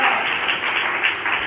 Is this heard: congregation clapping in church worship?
yes